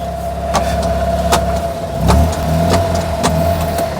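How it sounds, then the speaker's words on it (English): A small Fiat 500 engine idles steadily in a Foulkes Developments Impala Moke-type open car, a low continuous hum with a few sharp clicks and knocks over it and no talking. "The engine itself sounds really smooth for a Fiat 500 engine"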